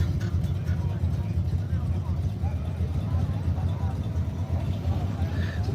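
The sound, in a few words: single cab truck engine revving at car meet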